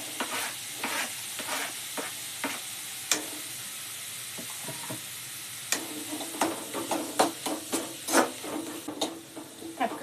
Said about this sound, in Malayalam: ഇനി അതിലേക്ക് അരിഞ്ഞ് വെച്ച തക്കാളിയും കൂടി ചേർത്ത് കൊടുക്കാം.